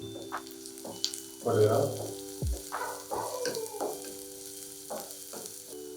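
Onion, carrot and beans sauté in oil in a pan, a soft sizzle broken by bursts of stirring and scraping, heard close and fairly quiet while someone speaks briefly.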